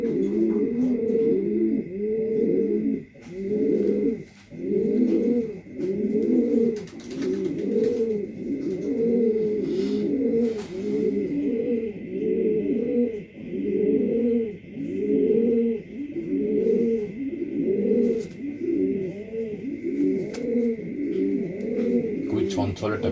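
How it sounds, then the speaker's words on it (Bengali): A checker racing pigeon coos repeatedly in a close, steady rhythm of throaty rolling calls, with someone talking over parts of it. "খুবই চঞ্চল একটা কবুতর, হাতে ধরে রাখা যায় না"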